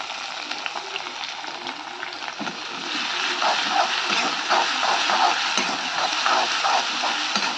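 Ginger and garlic fry in a pan with a dense, steady sizzle that swells louder partway through as they are stirred, with light crackles and spatter and no talking.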